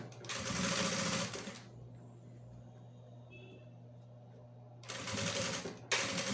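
A sewing machine stitches a bag in two runs: a steady fast whir of about a second and a half, a quiet pause, then a second shorter burst. The machine is close and loud, with no talk.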